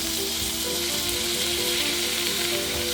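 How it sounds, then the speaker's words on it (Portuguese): Celery, capers and pitted green olives sautéing in a frying pan, a steady dense sizzle at close range with no talking. "Refogando por mais alguns minutos para que tudo se incorpore."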